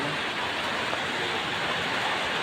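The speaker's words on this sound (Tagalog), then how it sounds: "Kasi laging umuulan." Steady, dense rain falling, a constant hiss with no breaks or voices.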